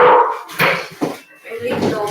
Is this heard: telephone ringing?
no